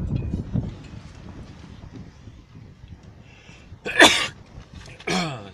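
Two loud, close sneezes from a person near a mechanic working on a Renault engine, the first sharp and bursting, the second following about a second later, after a stretch of low rustling and handling noise.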